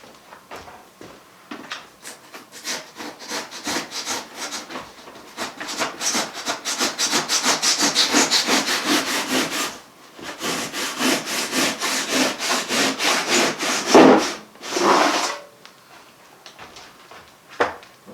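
A handsaw rasps back and forth through wood in steady, rapid strokes, pausing briefly midway and near the end before a final few pulls.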